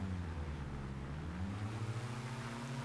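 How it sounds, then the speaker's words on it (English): Both engines of a CL-215 airtanker start together in a flight simulator, a low droning rumble with slowly rising, wavering pitch at moderate loudness. "we'll go for engine start, and unfortunately I'm going to start both at the same time"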